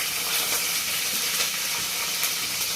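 Green chillies and tempering seeds frying in hot oil for masala dondakaya, a loud, steady sizzle and crackle with small pops, close up and alone with no talk.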